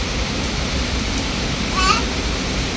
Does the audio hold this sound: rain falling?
yes